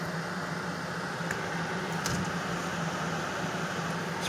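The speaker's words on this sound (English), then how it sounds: "So I transformed this from an old portable space heater to a simple little exhaust fan." A homemade bathroom exhaust fan converted from an old portable space heater runs with a steady, close whooshing hum and a low motor drone, with faint clicks over it and no speech.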